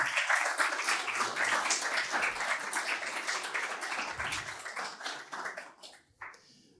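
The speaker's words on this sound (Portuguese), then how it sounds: "Uma salva de palmas para esse gigante, Flávio Amari" Audience applause for Flávio Amari at a Brazilian awards event, a loud burst of many hands clapping that gradually thins out and fades to a few scattered claps by the end.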